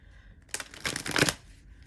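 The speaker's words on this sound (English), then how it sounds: "I'm just going to shuffle once because we just lost like a half a deck." A single quick shuffle of a tarot deck, a crisp riffling burst lasting under a second, close and alone in a quiet room.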